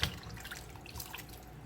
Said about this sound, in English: You want to make sure that you wash your meat until the water became white.